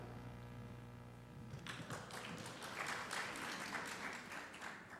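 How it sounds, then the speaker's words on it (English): An audience at a panel discussion on Orwell breaks into applause. After a quiet stretch the clapping starts suddenly and stays fairly soft and steady, as if heard from a distance in the hall. "So you can just get applause for asking a question here."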